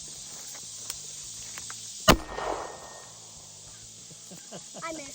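A can cannon fires a blank at a soda can outdoors in Oklahoma, giving one sharp, loud bang that rings briefly and fades, with quieter background sounds before and after.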